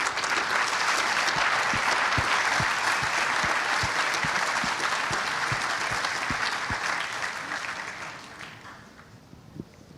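An audience at a Formula Student awards and closing ceremony applauds in a dense, sustained wash of clapping that holds steady, then thins and fades toward the end, with no talk over it.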